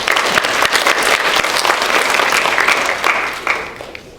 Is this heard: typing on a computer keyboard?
no